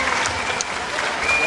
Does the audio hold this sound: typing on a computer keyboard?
no